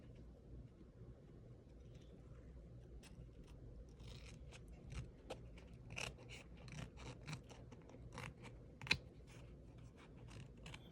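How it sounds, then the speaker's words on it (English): Scissors snip and crunch through a thick piece of chipboard, a run of sharp irregular cuts and clicks close by against a quiet room background, with no talking. "Take scissors. This is just a really thick piece of chipboard."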